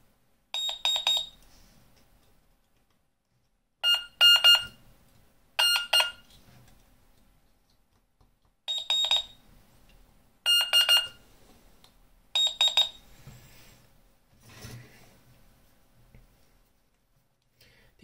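A multimeter's continuity tester beeps while probing a burnt-out Super Mario Bros. C64 cartridge, giving short bursts of shrill beeping in irregular clusters with silent gaps between them, close and fairly clear.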